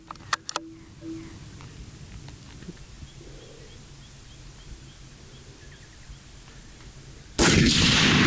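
A single loud rifle shot during a fallow deer hunt in New South Wales bush, cracking suddenly near the end after a long quiet stretch of faint outdoor ambience with occasional bird calls and small clicks.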